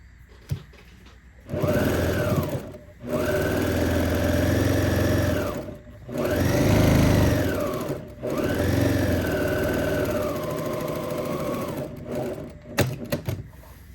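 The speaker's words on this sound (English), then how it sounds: "I'm going to stitch that line down" A sewing machine runs in several steady bursts as it stitches a line through a one-piece self-lining bag fabric, each run a close, even whir with short pauses and a few clicks between.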